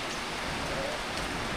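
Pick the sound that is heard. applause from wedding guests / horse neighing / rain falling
rain falling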